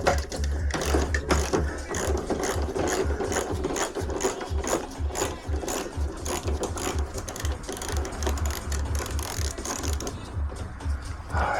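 A ratchet with a socket works a bolt loose on a Mazda MX5, its pawl clicking in a fast, steady, continuous rattle up close throughout, with no talking over it.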